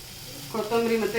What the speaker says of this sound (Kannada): ಇಲ್ಲಿ ಇದೆಲ್ಲ ಶುಂಠಿ, ಬೆಳ್ಳುಳ್ಳಿ ಎಲ್ಲ ಫ್ರೈ ಆಗ್ತಾ ಇದೆ